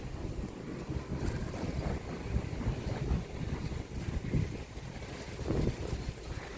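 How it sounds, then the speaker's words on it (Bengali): Gusty wind on a rooftop garden buffets the microphone with a steady low rumble that rises and falls across the whole stretch, with no voices. "খুব সুন্দর বাতাস হইতেছে আজকে"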